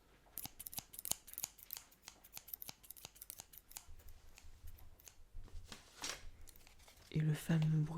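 Quick crisp snips of scissors cutting paper, with rustling and crinkling between cuts, close and fairly quiet, ending with a brief voice.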